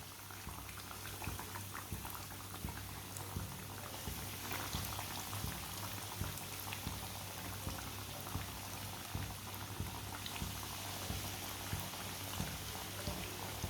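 Pieces frying in hot oil on a stove, a continuous bubbling sizzle with small pops throughout, close and steady.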